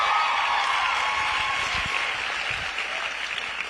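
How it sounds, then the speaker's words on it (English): A sold-out audience at a Charlie Kirk event in Berkeley, California, applauds, a dense wash of clapping that stays loud throughout and fades slightly toward the end, with scattered crowd noise mixed in. "You can clap for this."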